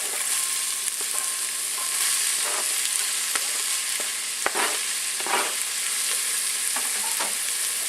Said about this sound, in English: we're kind of stir frying these onions